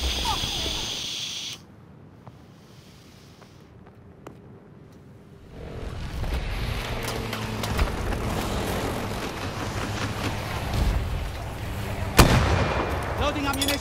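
Heavy gunfire and artillery-like booms in a video game battle, a quieter stretch giving way to sustained dense firing with a sharp loud blast near the end, mixed with background game noise.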